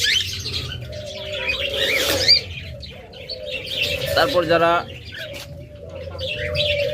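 Ringneck lovebirds chirp and tweet in short bursts throughout, mixed with someone talking and some background noise.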